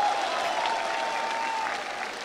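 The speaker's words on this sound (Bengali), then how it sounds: "তাদের জন্য একটা জোরে হাততালি হোক।" A concert crowd at the Joy Bangla concert in Bangladesh bursting into loud, sustained applause, many hands clapping at once with a faint tone ringing underneath.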